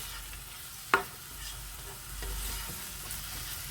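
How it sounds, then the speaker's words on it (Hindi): Onions frying in a karahi for a Lahori prawn curry, a soft steady sizzle with one sharp utensil knock near the start, close and fairly quiet. "प्याज को हम हल्का सा ब्राउन कर लेंगे।"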